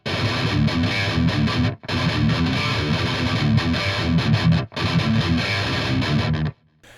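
Heavily distorted electric guitar plays a palm-muted metalcore breakdown from a song, loud chugging riffs in three phrases cut by sharp stops.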